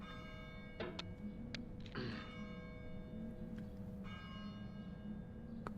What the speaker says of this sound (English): Do you hear that? The church bells.